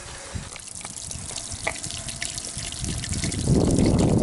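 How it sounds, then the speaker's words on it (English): Fresh water trickles gently through a grain bed during a homebrew sparge, giving a steady close trickle with scattered drips that swells louder toward the end. "Yeah, we got a nice gentle sparge because you don't want to really disturb your grain bed a whole lot."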